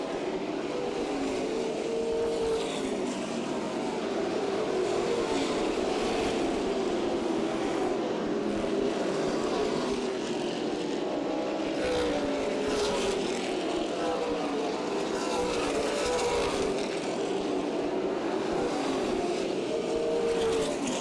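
Stock race cars of the CRA Super Series racing at Berlin Raceway in 2010, a continuous roar of engines rising and falling as cars pass on the oval, with a commentator's voice faintly under the noise.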